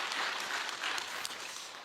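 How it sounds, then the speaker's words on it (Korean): Brief, soft clapping from a church congregation at a dawn prayer service, a steady patter of hands without voices. "여러분 박수 한번 해주세요."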